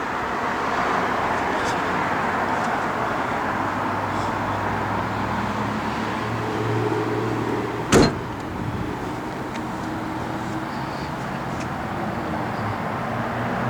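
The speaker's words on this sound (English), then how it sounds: "doors open and close nice" A single solid car door thump lands near the midpoint against a steady low background hum, with no voices.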